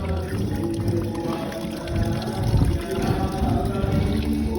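Water runs and splashes steadily into a container at a Bible school on an island in Hilantagaan, Santa Fe, Cebu, a continuous gurgling pour that swells slightly as it fills.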